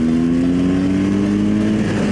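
A loud motorcycle engine roars steadily at full throttle, its droning pitch climbing slowly throughout, with no voices.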